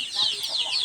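Backyard chickens, young chicks kept tethered, cluck in a quick run of soft bird calls, close and fairly loud for under a second.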